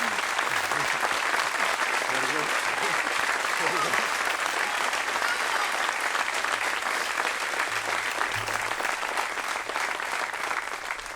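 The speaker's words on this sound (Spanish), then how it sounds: "yo creo que mereces otro aplauso." A crowd of townspeople claps steadily for the town crier at the 2015 Agaete proclamation, a dense, even wash of applause lasting throughout with faint low murmurs underneath.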